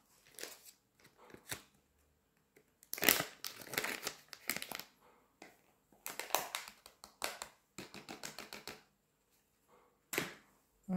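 A sachet of cream powder is crinkled and torn open with repeated bursts of close, crisp plastic rustling, mixed with quiet pauses.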